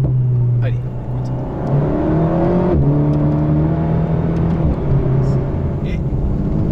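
An Alpine A110 S on Pilot Sport Cup 2 semi-slick tyres drives on ice with its dual-clutch gearbox, its engine droning loud and close as the pitch climbs, drops at gear changes and climbs again.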